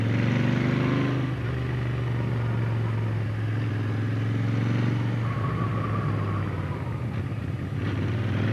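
A Royal Enfield 650 twin motorcycle engine drones steadily while riding, a low continuous rumble with wind rush that eases slightly after the first second and holds fairly level.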